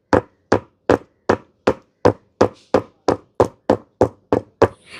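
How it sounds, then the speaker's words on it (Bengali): A bowl of palm-fruit cake batter is tapped on a hard surface to release air bubbles, twelve evenly spaced dull knocks at a steady rhythm, close and fairly loud with nothing else heard. "এবারে বাটিটা এইভাবে একটুখানি ঠুকে নিতে হবে, তাহলে এর ভেতরে যেটুকু বাতাস রয়েছে সেটা বেরিয়ে যাবে।"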